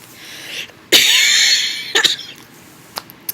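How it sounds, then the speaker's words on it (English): A single dry cough bursts out close and loud, followed by a rasping exhale that fades, then a few small throat sounds and short catches of breath. "I have a dry cough"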